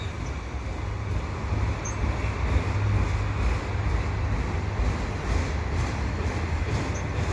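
An eastbound CN general manifest freight train with a block of auto racks rolls past at a railway ramp, a steady, continuous rumble and clatter of wheels on rails with faint squeals, close and loud throughout.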